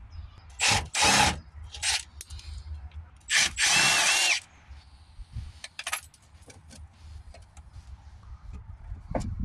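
A power tool removes 10mm bolts from a plastic cover on a Peugeot Partner, with a few loud short whirring bursts up close, then clinks and taps of small metal parts and quieter handling noise.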